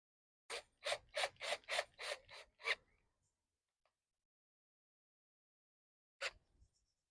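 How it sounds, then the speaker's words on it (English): A screw gun drives screws into 3D-printed plastic pool hooks, making a quick run of about eight short, close grinding bursts, then silence, then one more brief burst. "when I'm tightening these with the screw gun, I don't want to get carried away"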